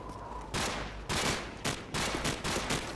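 Bursts of automatic gunfire ring out in Call of Duty 4: Modern Warfare, four loud rattling volleys in quick succession with short pauses between them.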